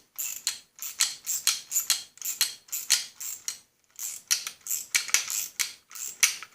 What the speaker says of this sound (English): You're going to need a 7/16 wrench and a socket. And you want to turn it so it's tightening.